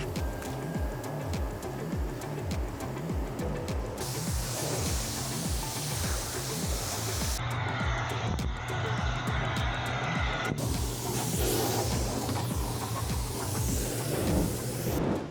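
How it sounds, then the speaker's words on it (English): A pressure-washer spray rinses soap off a Toyota RAV4 during a spring-cleaning detail, giving a steady loud hiss that shifts in tone as the stream moves across the body, with no talking. "Now he's going to be rinsing off the vehicle. We want to really make sure we get all the soap off of it."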